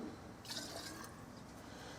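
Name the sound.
methylated spirits being poured into a stove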